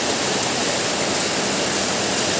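Heavy rain pours down steadily on a rural hillside, a dense, loud, unbroken hiss with no voices.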